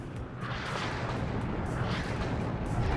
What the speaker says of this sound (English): I'm now using my artillery a bit more.